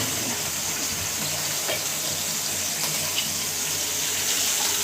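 Tap water runs steadily over leafy greens being washed in a kitchen sink, a continuous close hiss and splash that carries unbroken from start to end.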